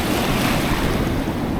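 Surf breaks steadily on an island beach with clear water, a loud continuous wash of waves mixed with heavy wind buffeting the microphone throughout.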